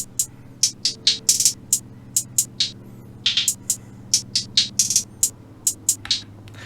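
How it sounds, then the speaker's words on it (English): Dry, unprocessed hi-hat pattern programmed for a dark orchestral trap beat in FL Studio, a steady run of crisp ticking hits with uneven spacing and small gaps, loud and close over a faint low hum, no voices. "So this is how the hi-hat's gonna sound without any effects on it."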